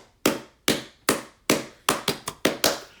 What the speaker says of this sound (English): Give it a hand clap.